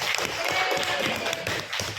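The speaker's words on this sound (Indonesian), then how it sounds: "Silahkan tepuk tangan Bapak Ibu." An audience at a workplace training session claps together in a dense, continuous patter of hands that fills the short stretch, with a voice faintly mixed in.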